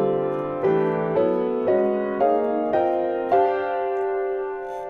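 Six chords shift step by step in parallel whole tones, each struck and left ringing, evenly spaced and close, with no voice.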